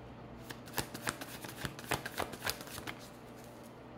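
A deck of tarot cards shuffled by hand, making rapid riffling and flicking bursts close up for several seconds, then trailing off.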